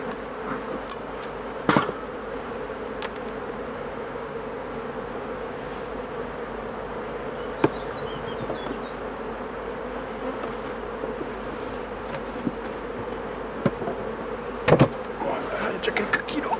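Honeybees buzzing steadily around beehive supers at an apiary, a continuous close insect drone with a few sharp knocks and clicks, and a voice speaking briefly.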